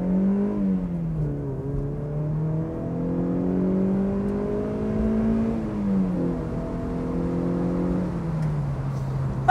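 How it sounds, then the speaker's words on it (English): Mazda MX5 engine revving through repeated rising and falling sweeps, with smooth gear-like pitch steps, loud and close, with no talking over it. "Listen to this engine."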